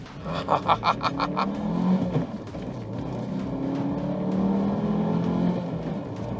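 A pickup truck accelerates hard from a standstill toward 100 km/h, its engine revving high through short gears with a rising, steady drone heard from inside the cab.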